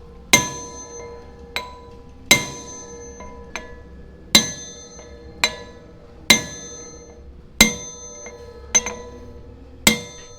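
A hammer strikes cone washers on a final drive housing in a workshop, giving sharp metallic clanks with bright ringing tails. Heavy blows alternate with lighter taps at a steady rhythm of about one per second, close and loud.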